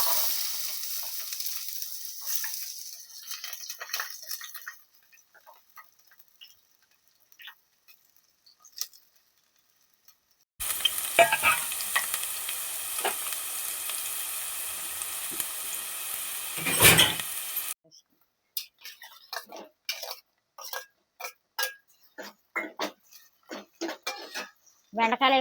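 Chopped onions frying in a pan for okra curry: a bright, steady sizzle in two bursts, the second louder, mixed with spoon and pan clatter, then scattered taps and scrapes.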